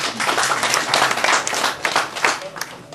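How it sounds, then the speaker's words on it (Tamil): An audience claps and applauds at a Tamil film audio launch event for Ayul Regai, a dense burst of many hands clapping close by, lasting a few seconds. "கைதட்டாங்க"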